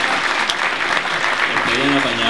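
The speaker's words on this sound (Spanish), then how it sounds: "un aplauso, por favor." Audience applause inside a theater at an album launch event, a steady wash of clapping filling the room throughout, with some voices and cheers mixed in near the end.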